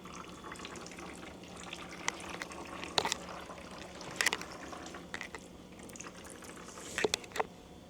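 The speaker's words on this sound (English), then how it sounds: "I'm going to turn this back so we can drain more of this oil out" Engine oil drains from a failed Honda 2.0L K20A6 turbo engine during a teardown, a faint steady trickle and pour broken by a few scattered metallic clinks and taps.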